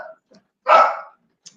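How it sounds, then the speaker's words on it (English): A single short dog bark rings out close by in a quiet room, a brief bright burst standing alone with only faint noises before and after it. "That's my dog barking."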